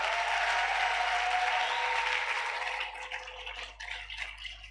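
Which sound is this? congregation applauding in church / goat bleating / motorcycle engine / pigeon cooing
congregation applauding in church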